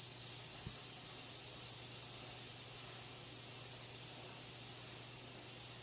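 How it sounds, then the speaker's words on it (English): Steady high-pitched hiss of an airbrush spraying paint continuously on a Chevelle, fairly close, with a faint low hum underneath and no talking. "Now I should get a smoother spray."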